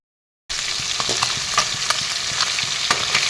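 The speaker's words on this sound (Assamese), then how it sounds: "মাছখিনি এতিয়া ফ্ৰাই কৰি ল'ম" Fish pieces dropped into hot oil in a pan for an Assamese fish curry, a sizzle that starts abruptly after brief silence and carries on steadily with small crackles and stirring knocks.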